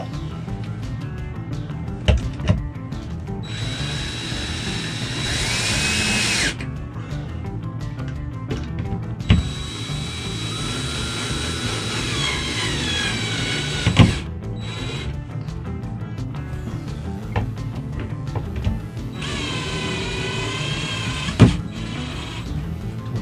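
A power drill on its slow setting drives screws into a shelf being built. It makes several separate runs of steady motor whine, each a few seconds long and broken by short pauses and clicks.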